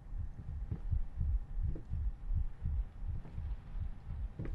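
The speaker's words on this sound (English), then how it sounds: "Why is his heart beating? That's my heart beating." In the horror video game Layers of Fear, a slow, steady heartbeat thumps in a low, muffled double-pulse rhythm, about a dozen beats over a faint background hum, with no speech.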